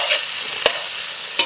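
Vegetables for a curry hit fried spices in a pan in a village kitchen: a steady, close sizzle with two sharp stirring scrapes, one midway and one at the end.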